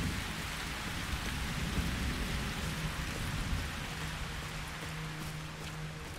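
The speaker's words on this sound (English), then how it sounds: "Sound effects are nice for the rain." Steady rain in the video game STALCRAFT pours down with a constant hiss, a low rumble beneath it, and no one speaking.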